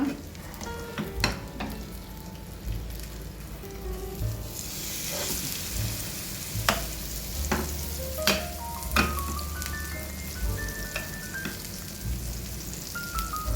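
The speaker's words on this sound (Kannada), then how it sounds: "ಈಗ ನಾವು ಇದನ್ನು ಫ್ರೈ ಮಾಡಬೇಕು" Marinated king fish sizzling in hot ghee in a pan, a steady close frying crackle with sharp spits and pops, and occasional clinks of utensils over the continuous sizzle.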